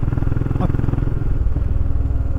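A motorcycle rides a trail on the Trans-America Trail near Tellico Plains, its engine droning steadily and close with a rough, pulsing note and a brief clatter.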